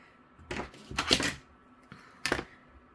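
Scissors cutting thin fabric strips for a quilted bookmark, with a few close, quiet, crisp snips in irregular pairs against near silence.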